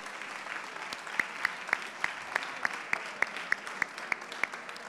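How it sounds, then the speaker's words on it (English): Applause from an event audience welcoming entrepreneur Francesco Baschieri, founder of Voxnest, at a university live-streamed session: a soft, steady patter of many hands with a regular series of sharper, louder claps standing out roughly every third of a second, no talk. "let's please give Francesco a warm applause as well"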